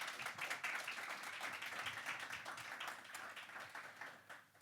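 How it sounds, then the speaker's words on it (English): A conference audience at an independent-music talk gives a welcoming round of applause, a soft, continuous patter of many hands that fades slightly toward the end. "please give him a warm welcome with an applause"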